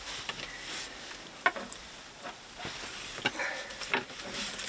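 Quiet, steady sizzling of fish frying in a pan, with occasional soft pops and crackles over the hiss.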